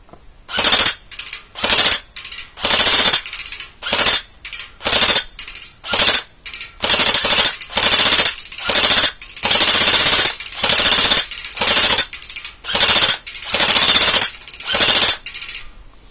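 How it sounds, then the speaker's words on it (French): Rapid mechanical rattling bursts of automatic fire from a G&G Armament RK47 blowback airsoft rifle, a dozen or so short volleys separated by brief pauses, loud and close with no talking. "On va se mettre un petit coup en automatique."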